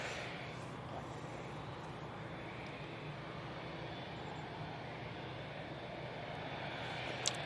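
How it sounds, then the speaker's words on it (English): A Qatar Airways Boeing 787 Dreamliner jet at Manchester Airport, heading out toward Doha in windy conditions, makes a steady, distant broadband roar that holds evenly throughout, with wind noise mixed in and no talk. "Right, Qatar Dreamliner. Going back to Doha."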